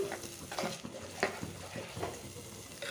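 Masala sizzles quietly in a hot pan for an okra and green gram curry while a spoon scrapes and taps against the metal in an irregular stirring rhythm.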